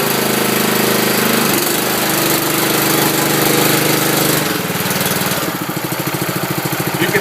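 A Billy Goat sod cutter with a Honda engine cutting sod: a loud, steady engine roar with a rapid, rattling, jackhammer-like vibration from the blade throughout.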